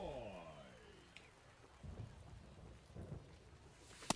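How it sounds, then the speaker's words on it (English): Steady rain pours down during a baseball video game, a soft continuous wash with a few low rumbles and thumps and no commentary over it. "We're coming right up against it with the way this rain is coming down"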